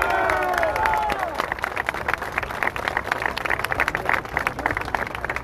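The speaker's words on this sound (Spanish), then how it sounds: "Un aplauso para él, por favor." Outdoor crowd applause and cheering at a political rally for a national party president, a broad wash of clapping and crowd noise with some shouting, steady and fairly loud throughout.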